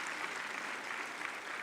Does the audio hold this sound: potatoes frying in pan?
no